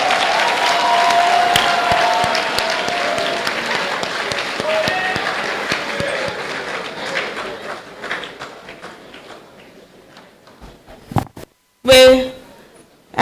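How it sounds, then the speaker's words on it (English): Graduation ceremony audience in a large hall applauding loudly and steadily, dense clapping that gradually thins and fades out, followed by a few scattered claps and a brief loud burst near the end. "Shall we give a thunderous applause again to our guest?"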